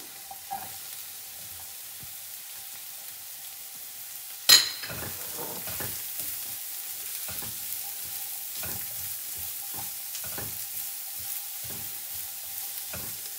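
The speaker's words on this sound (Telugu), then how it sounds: "ఇప్పుడు సెలరీ వేస్తున్నానండి. సెలరీ కూడా మనం చక్కగా పీసెస్ కట్ చేసుకున్నాము." Chopped celery sizzles in a hot pan while a spoon stirs it, a steady frying hiss broken by a sharp scrape and intermittent soft stirring clatters, with no talking.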